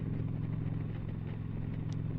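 A 2021 Indian Challenger motorcycle heard while riding, a steady low engine drone with constant road and wind rumble throughout, fairly loud and unbroken.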